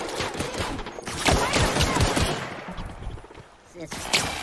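Weapon fire in the video game The Outer Worlds, a loud, rapid burst of shots in quick rhythm that fades into a short quiet gap before one more sharp report.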